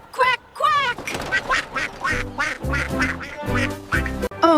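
A playful voice imitates a duck, quacking several times in quick succession, with a light musical backing joining partway through.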